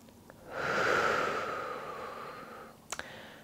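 A single slow, deep breath, drawn in and released softly and close, with a faint rustle near the end, in a quiet setting before gentle movement exercises.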